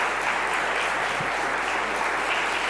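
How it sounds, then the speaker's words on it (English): Warm audience applause at a startup incubator demo day as a winner is about to be announced, a dense, even wash of clapping from a crowd sustained for nearly three seconds. "Please give her a warm applause"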